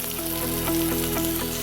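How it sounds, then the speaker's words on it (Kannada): Onion sizzles in hot ghee in a tempering pan, a dense continuous close hiss with occasional sharper spits and faint stirring. "ಇದಿಷ್ಟು ಒಗ್ಗರಣೆಗೆ ಸ್ವಲ್ಪ ಈರುಳ್ಳಿ ಸೇರಿಸೋಣ."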